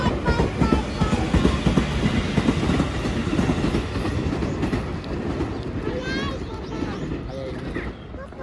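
Train passing near a park in Japan, with loud rolling rumble and clickety-clack of wheels close by, fading slightly toward the end while people talk over it.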